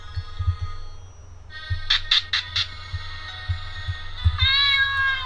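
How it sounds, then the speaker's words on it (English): A cat meows in the video game Hero's Realm, several short bright meows clustered in the middle and a longer one near the end, over a faint low hum. "Yep, Felix is a cat."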